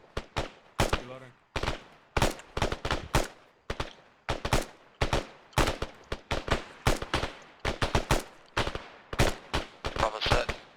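Rapid gunfire rings out during a squad training exercise outdoors, with bursts of sharp, loud reports in quick, uneven succession, some overlapping, sustained across the whole stretch with brief gaps between volleys.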